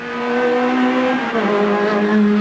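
A race car at the 1988 Bathurst 1000 shifts up into third gear, its engine a loud, steady close-up drone that dips briefly at the change and then carries on at high revs, with no talking.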